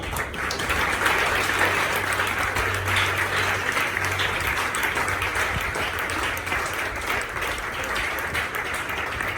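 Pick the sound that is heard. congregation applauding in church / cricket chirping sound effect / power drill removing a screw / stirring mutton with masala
congregation applauding in church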